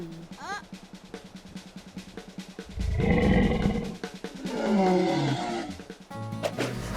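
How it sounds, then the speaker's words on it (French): A cartoon dinosaur lets out two long, loud roars in a children's animated adventure, set among bursts of music and effects, with a voice speaking just before the first roar. "C'est un dinosaure!"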